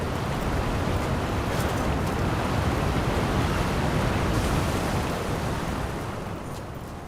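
Loud waterfall in the video game Dragon Age: The Veilguard, a dense, constant roar of rushing water that fills the scene and eases off slightly near the end, with no talk.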